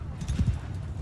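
Cavalry horses in Mount & Blade II Bannerlord pound along in a muffled, low clip-clop of galloping hooves during a battle, a short rumbling burst under a voice.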